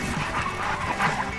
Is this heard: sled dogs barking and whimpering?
yes